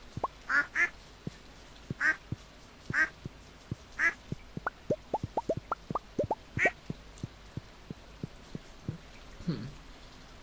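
Ducks in the Stardew Valley video game quack several times in short repeated calls over a bed of game rain, with a rapid run of plopping raindrop ticks in between, clear and close.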